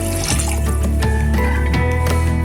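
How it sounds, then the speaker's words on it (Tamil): Water pours steadily into a pan of carrots, beans and peas, a close continuous splashing and gurgling flow with no voices. "தேவையான அளவு தண்ணி சேர்த்துக்கங்க"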